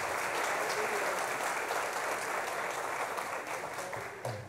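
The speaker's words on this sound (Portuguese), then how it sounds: "Uma salva de palmas para ele." A congress audience at a FACESP lecture applauds steadily, a broad, even roar of many hands clapping that holds for several seconds before easing off slightly at the end.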